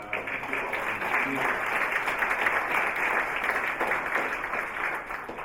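Meeting audience applauds committee members at a campus climate survey presentation, a steady moderate round of clapping from a modest crowd, somewhat distant, with faint murmuring beneath.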